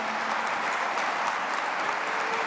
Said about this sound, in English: Let's give them one more round of applause here.